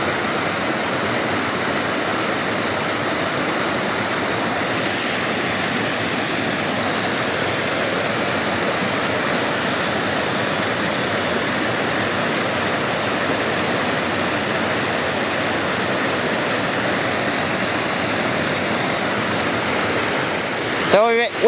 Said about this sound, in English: So we're at Whittle's Weir.